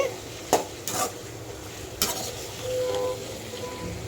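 Pieces of raw mango being stirred into a Madras fish curry in a pan: a few sharp scraping clinks of the spoon against metal, with faint background hum in between.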